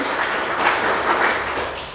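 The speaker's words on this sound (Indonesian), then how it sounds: "Kasih tepuk tangan untuk Tuhan." Church congregation applauding, a steady, dense wash of clapping that holds at an even level for the whole stretch, with no voice rising above it.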